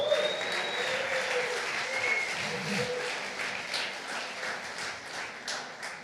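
A church congregation applauds at a Portuguese-language service, sustained dense clapping from many hands filling the room, steady throughout with slight swells.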